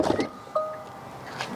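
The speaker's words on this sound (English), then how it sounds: "So if we open this back door," A Tesla Model 3 or Y rear door opening with a quick latch click and a brief electric whir as the window drops slightly, followed by a soft settling sound. It is nearby and short, with no talk.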